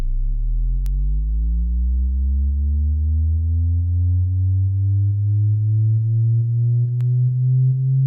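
A deep, smooth synth bass tone sustains and slowly glides upward in pitch, steady and loud, with a couple of faint clicks.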